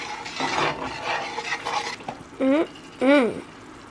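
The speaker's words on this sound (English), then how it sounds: "Stir that around." Pork chops being stirred with a sprinkle of garlic powder in a pan, close scraping and soft sizzling at first, then brief voiced sounds near the end.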